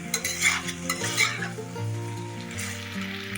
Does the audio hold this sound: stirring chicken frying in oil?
yes